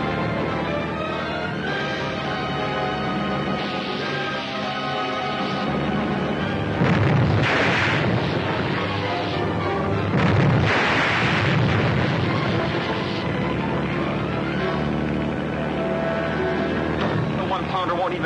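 A naval deck gun fires at a human torpedo out on the water, two heavy booms ringing out over wind and engine rumble, with voices shouting amid the noise.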